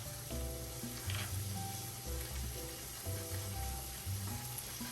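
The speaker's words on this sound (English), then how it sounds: "You're just gonna go ahead and put the rice in there" Rice frying in a hot pan gives off a steady, close sizzle, with brief scraping and stirring bursts and a few faint tonal beeps or hums in the background; no one speaks.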